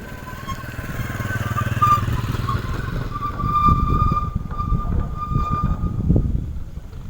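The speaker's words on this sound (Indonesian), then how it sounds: "berhenti dulu di sini karena ada papasan motor." Motorcycle passing on a narrow path near a curved aqueduct in Magelang, a steady engine drone with rising, fluttering rumble as it approaches, fairly close, under faint background noise.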